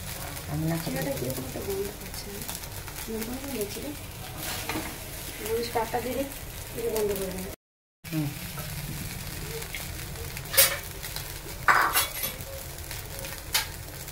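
Chira polao, flattened rice, fries in a pan with a soft sizzle while a utensil stirs and scrapes it in uneven bursts; someone talks throughout, and sharper clinks of metal come near the end.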